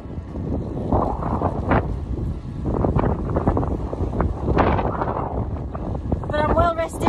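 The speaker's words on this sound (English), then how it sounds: "It's pretty windy." Strong wind buffets the microphone in heavy, rumbling gusts at a campsite near Sliven, Bulgaria, with a voice speaking underneath and a few high chirps near the end.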